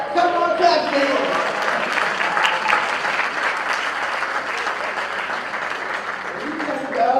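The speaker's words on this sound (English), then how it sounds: "Come on, clap your hands." A church congregation at a youth Sunday service claps for a couple's wedding anniversary, a sustained crowd of hands applauding steadily with voices talking and calling out over it.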